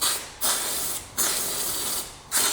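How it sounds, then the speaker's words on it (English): Three bursts of hissing cleaner through a spray gun, each lasting about a second, separated by brief pauses, close and steady. "This screws on the gun the same way as the bottle, and I can just spray it off."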